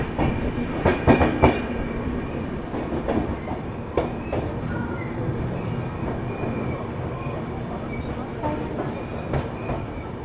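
The Bihar Sampark Kranti Express rolls into Gonda Junction station on a cold day. A loud, continuous rumble of wagons carries rhythmic clickety-clack from the wheels and brief metallic squeals near the start.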